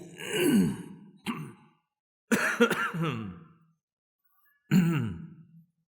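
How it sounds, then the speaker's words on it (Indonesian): Three or four separate rough coughs and throat-clearing bursts, close by, spaced out with silent gaps between them. "Batuk."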